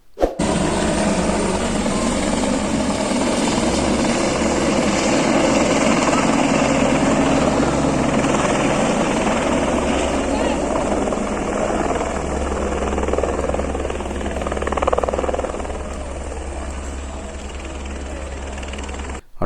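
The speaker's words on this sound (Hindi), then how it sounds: "यही वो जगह है जहां पर हेलीकॉप्टर छोड़ता है अपने यात्रियों को" A helicopter at the Kedarnath temple helipad in the mountains drones continuously with a loud, steady rotor thrum and engine whine, close by throughout, with a faint voice underneath.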